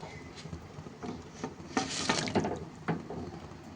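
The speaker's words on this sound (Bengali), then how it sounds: "এবার এর মধ্যে দিয়ে দিচ্ছি জল।" Water is poured into a pan of simmering vegetarian green-banana kofta curry. A quiet, brief splashing gush rises midway over faint background patter.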